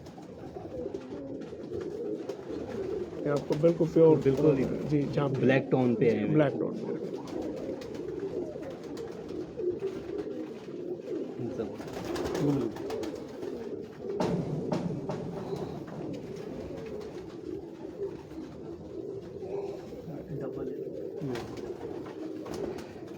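Pigeons cooing on a rooftop in Lahore, low rolling coos repeating through the stretch, louder early then steady, while someone talks over them.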